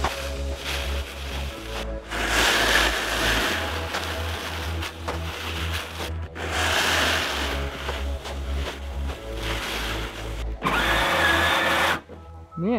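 A car stuck in snow revs hard in repeated surges of a few seconds each, with brief dips between them as the wheels fail to grip. The engine is loud and close, with no speech over it.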